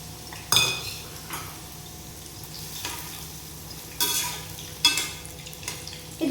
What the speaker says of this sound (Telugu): ఇప్పుడు ఆయిల్ హీట్ అయ్యాక మనం మిల్ మేకర్ రోస్ట్ చేసుకోవాలి.